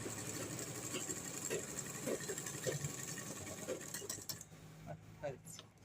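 A sewing machine stitches a saree blouse piece, its close mechanical whirr and clatter running for about four seconds before stopping, followed by a few quieter handling knocks.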